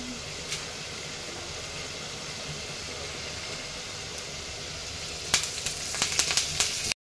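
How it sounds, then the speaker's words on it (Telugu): Mustard seeds, cumin and dried red chillies sizzle in hot oil in a pan as a tempering for tomato dal, a steady frying hiss that breaks into sharper crackling pops toward the end. "ఇప్పుడు ప్యాన్ తీసుకొని అందులో ఆయిల్ వేసుకొని అందులోకి ఆవాలు, జీలకర్ర, ఎండుమిర్చి వేసుకోవాలి"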